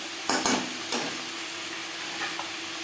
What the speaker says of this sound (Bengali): আর দিয়ে দেবো টুকরো করে কেটে রাখা টমেটো পেঁয়াজের সাথে টমেটো বেশ ভালো করে মিক্স করে দেবো